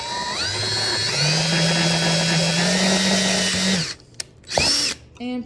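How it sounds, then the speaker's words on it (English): A power drill bores through a metal back plate held down with pliers on a jeweler's bench pin while a tube rivet is made. A steady, loud whine runs for nearly four seconds, then stops, followed by a few faint clicks and handling noises. "holding it down with pliers, drilling through with the drill"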